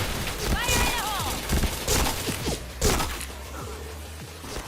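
Gunfire in the shooter game Point Blank: rapid clustered shots and thuds crackle through a busy, loud mix, with a voice talking over the action.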